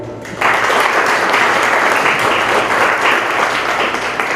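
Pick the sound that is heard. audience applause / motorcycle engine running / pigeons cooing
audience applause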